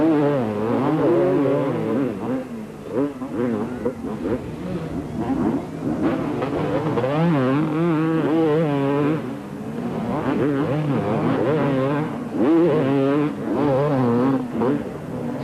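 Kawasaki and Yamaha supercross motorcycles racing over stutter bumps toward a left-hand corner at a 1989 Australian event, engines revving and wavering loudly and continuously, overlapping as several bikes run together.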